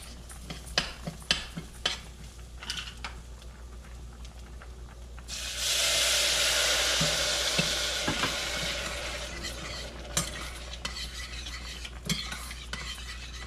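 A spoon scrapes and clinks against a pot as risotto is stirred, with a loud burst of sizzling as stock is added partway through, then continued close stirring scrapes and taps with no talk.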